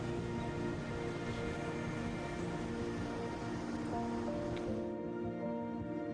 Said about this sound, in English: emerald waves meet volcanic cliffs where waterfalls plunge toward the sea